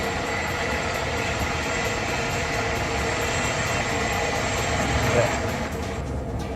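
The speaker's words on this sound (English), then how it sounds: "You can notice the Comanche helicopter" Comanche light attack helicopter engine in Arma 3, a steady, dense rotor-and-turbine drone that holds at an even loudness throughout, with no voices over it.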